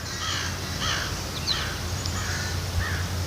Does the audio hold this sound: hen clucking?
no